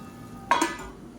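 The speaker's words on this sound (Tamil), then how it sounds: "அந்த மசாலா வந்து இந்த முட்டையில் படுற மாதிரி நல்லா பரட்டி விட்டுக்கலாம்" A spoon briefly scraping and clinking through egg masala in a pan, a single quick stir standing out over a faint low background hum.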